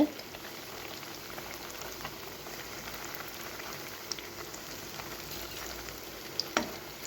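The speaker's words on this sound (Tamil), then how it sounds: "நம்ம ஒரு நாலஞ்சு பீஸ் மட்டும் போட்டு அப்படியே ஆயிலில் பொறிச்சு எடுத்துக்கலாம்" Bread pieces deep-frying in hot oil in a kadai over a medium flame, a steady soft crackling sizzle with occasional small pops, quiet and even throughout.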